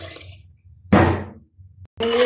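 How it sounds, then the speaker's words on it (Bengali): Water poured into a pot for cooking rice in a home kitchen, heard as a loud splashing burst lasting about half a second, followed by quieter trickling and a second brief pour at the end. "আগে পানিটা দিয়ে দিবি এভাবে পানিটা দেওয়া হয়ে যাবে"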